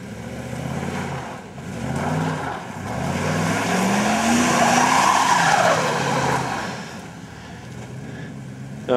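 A Jeep Cherokee spins around in snow during an informal spin-around contest, its engine revving and rising in pitch while tires squeal and skid, swelling and fading over several seconds at moderate distance.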